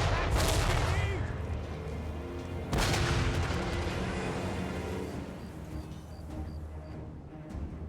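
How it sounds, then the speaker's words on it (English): Cannon fire in a Warhammer video game battle near Nuln: two heavy, loud booming blasts a couple of seconds apart, each trailing off into a long rumble over a bed of game music and battle ambience. "Has anybody ever been close to cannon firing? They're really loud."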